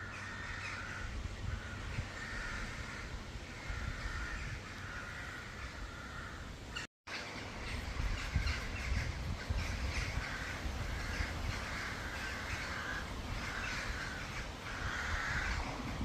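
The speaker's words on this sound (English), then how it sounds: "we end on the crows going crazy" Crows and jackdaws caw restlessly at dusk, a dense, continuous chorus of harsh calls that overlap steadily from start to finish with a brief break partway through.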